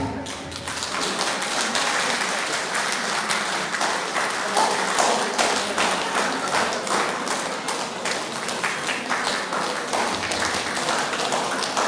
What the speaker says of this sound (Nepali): ताली बजाइदिनु होला।